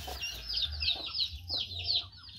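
Several chickens cluck close by in quick, repeated bursts, a busy back-and-forth chatter of fowl with no talking.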